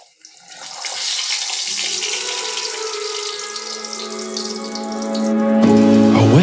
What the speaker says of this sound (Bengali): এবার আমি তেলের মধ্যে এটাকে ছেড়ে দিয়েছি